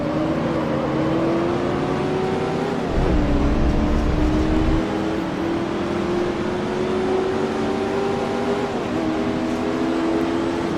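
A Ford GT40 racing car engine drones loudly and continuously in the Grand Prix Legends racing game at a Daytona-style circuit, its steady pitch rising slightly, dipping briefly around a corner, then climbing again.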